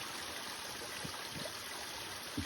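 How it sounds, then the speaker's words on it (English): A waterfall and stream along the Appalachian Trail rush in a steady, broadband wash of flowing water, fairly faint and continuous, with no voices. "Got to the waterfall."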